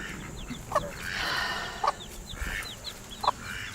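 Several backyard chickens cluck and chirp nearby in short, irregular bursts, with a few louder squawks standing out against quiet outdoor background noise.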